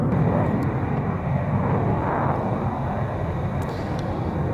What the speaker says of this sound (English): A typically spectacular pull-up towards the end of the runway by Captain RIAT